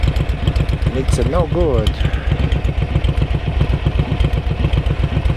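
A Ducati motorcycle engine idles steadily with a fast, even thumping pulse, close and loud throughout, while someone speaks briefly over it.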